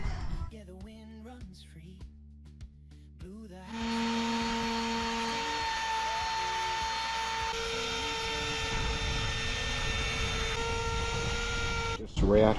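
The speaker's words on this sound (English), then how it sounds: "Now I'll just start with the sanding." A few knocks and scraping handling sounds, then a power sander starts up on a wooden table and whines steadily at high volume, stopping near the end.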